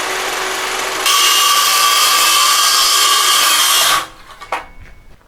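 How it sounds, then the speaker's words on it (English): A saw cuts a thin sliver off a leftover 2x4 wood piece clamped in a workbench, with a loud, steady rasping cut lasting about three seconds that stops abruptly, followed by a few faint knocks. "then I will cut off a sliver of wood on both sides"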